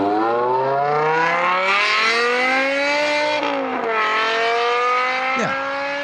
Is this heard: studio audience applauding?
no